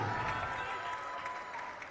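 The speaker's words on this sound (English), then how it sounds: "One more round of applause for Megan Daly and Sydney Rogers" Applause for two senior players at a girls' varsity basketball senior night in a school gym, a steady wash of clapping from the crowd with a tone ringing through it, fading slightly toward the end.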